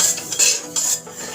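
Spoon scraping and clattering against a kadai as 200 grams of moong dal is stirred while dry-frying, quick irregular metallic scrapes up close, no voices.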